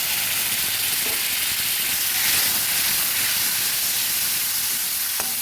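Spices frying in a pan sizzle and hiss steadily after water is added, a continuous close, bright sizzle with a faint clink near the end.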